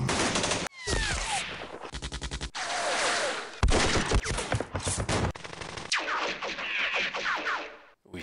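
Gunfire crackles around a bridge in the war game Rising Sun, with repeated bursts of rapid automatic fire and single loud shots. It comes in dense volleys broken by short gaps and has no talking over it.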